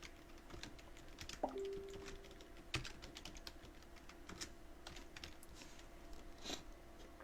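Quiet typing on a computer keyboard while entering lettering in embroidery digitizing software, soft irregular key taps over a low steady hum, with no voices.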